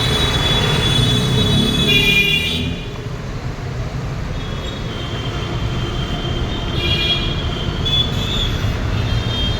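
A train at a railway station rumbles steadily throughout, with faint high wheel squeal near the start and a low continuous rolling drone, moderately loud and with no talk.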